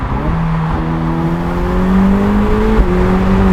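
A Ferrari accelerates hard at 70% throttle, its engine note rising steadily in pitch and loudness with a brief shift blip near the end, close and alone without talk.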